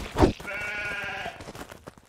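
A sheep bleats once in the video game Craftopia, a single wavering call that follows a short thump and sits over quiet game ambience.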